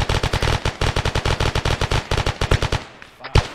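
Rapid automatic gunfire in the military video game ArmA 3, a steady loud stream of close shots for about three seconds that breaks off, followed by a couple of isolated louder reports.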